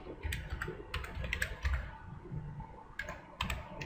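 Quick bursts of typing on a computer keyboard while entering labels into a spreadsheet, soft close clicks in short clustered runs with brief pauses between, no voices.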